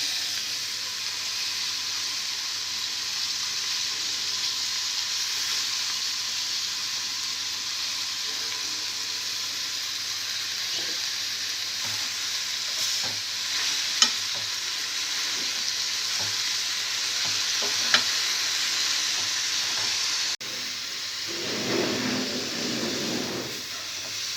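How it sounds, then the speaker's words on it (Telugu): Sorrel leaves and tomato pieces fry in oil in a pan, a steady, close sizzle and hiss with a few faint stirring clicks, and a brief rustle near the end. "టమాటో ముక్కలు కూడా కొద్దిగా మగ్గిన తర్వాత ఇందులో చుక్కకూర వేసుకోవాలి."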